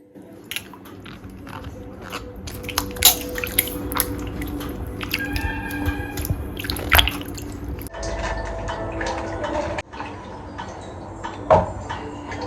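Water splashes and drips as tomatoes are rinsed and handled, with squishy rubbing and occasional clunks against a container, fairly close.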